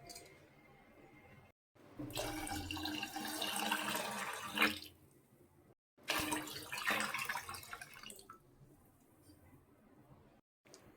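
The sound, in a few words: pouring water for cooking pongal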